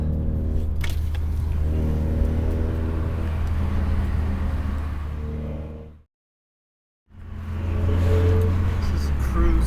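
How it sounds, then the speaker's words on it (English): Loud exhaust drone of a 2015 Subaru WRX with a catted J-pipe and 3-inch straight exhaust, heard from inside the cabin as it accelerates, a steady harmonic rumble that cuts out for about a second before returning. "the exhaust sounds you hear in the cabin is totally different"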